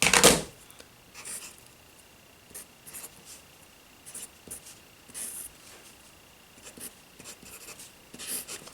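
A pen scratches steadily across paper as a matrix is written out by hand. Short, close strokes and taps come in an irregular rhythm over a quiet room hiss.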